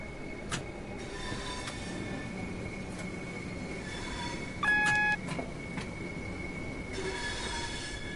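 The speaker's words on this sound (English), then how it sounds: "this train does make a lot of sound when it turns." Train wheels squeal on a curve in the Train Sim World 2 railway game, with high sustained whines rising and fading several times over a low rolling rumble of the carriages.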